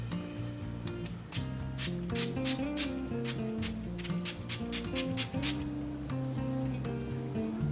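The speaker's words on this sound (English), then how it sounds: "I'm just gonna spray my face with the Wet n Wild PhotoFocus setting spray." Rapid bursts of a fine setting-spray mist hiss onto a face in quick succession, about a dozen short spritzes, over steady background music.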